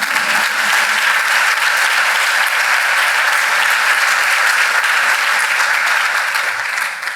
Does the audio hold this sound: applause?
yes